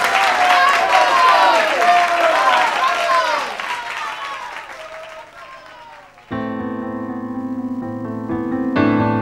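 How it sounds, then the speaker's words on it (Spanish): A television variety-show audience cheers and applauds for about six seconds, then bright stage music takes over loudly to the end. "Fuerte el aplauso para ella."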